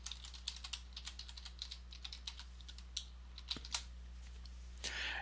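A password is tapped out on a computer keyboard in a quiet room, with a close run of light, uneven key clicks over a low steady hum, then a brief rustle at the end.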